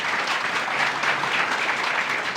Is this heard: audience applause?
yes